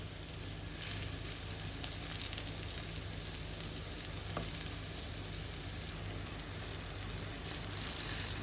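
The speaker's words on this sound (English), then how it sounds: "And let's fry it for about 5 minutes on each side." Seasoned tiny sardines frying in oil, a steady, even crackling sizzle that stays fairly quiet and unbroken, with only a couple of faint ticks and no stirring.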